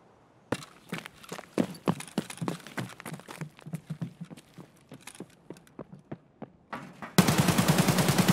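Rifle fire in the Escape from Tarkov video game cracks out in quick, uneven single shots and short bursts at moderate volume, ending in a sustained, dense automatic stretch.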